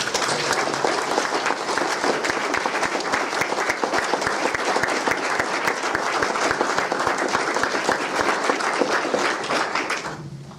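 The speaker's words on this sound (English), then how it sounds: "please join me in a round of applause to thank Yisa" A crowd at a 2011 exhibition opening at the Gupta Centre gives a sustained, loud round of applause, an even wash of many hands clapping together for about ten seconds before stopping abruptly.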